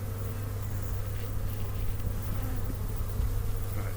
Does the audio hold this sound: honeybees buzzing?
yes